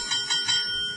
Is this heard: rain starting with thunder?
no